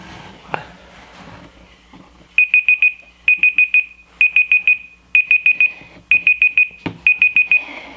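A phone timer alarm goes off in a workshop, sounding repeated bursts of four quick high electronic beeps in a steady pattern after a couple of faint knocks, loud and close.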